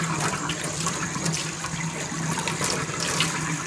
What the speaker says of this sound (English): I'm just gonna rinse it through water.